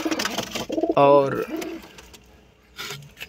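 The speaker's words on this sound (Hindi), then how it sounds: "ये दो कबूतर इन लोगों का जोड़ा है" Pigeons coo in a home pigeon loft, one clear throaty coo standing out close by along with softer bird sounds, while someone talks over them.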